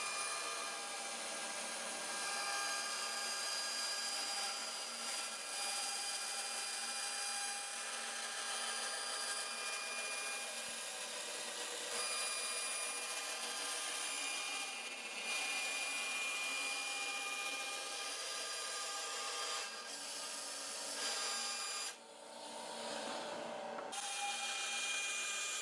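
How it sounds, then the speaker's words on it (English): A bandsaw roughly cutting out a shape from solid ebony for a custom guitar body, a continuous loud whining buzz of blade through hard wood, steady for the whole stretch with a brief dip near the end, no voices. "I'm back to the bandsaw again to roughly cut out the shape"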